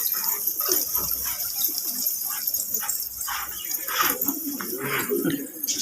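Pigeons coo at the Sis Ganj gurudwara in Chandni Chowk, Delhi, their soft repeated calls mixed into steady open-air background noise with some faint distant barking.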